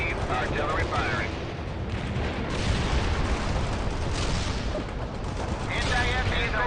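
Artillery fire in the real-time strategy game World in Conflict, a continuous barrage of booms and crackling blasts rolling without pause, with short bursts of radio-style voice chatter layered over the din.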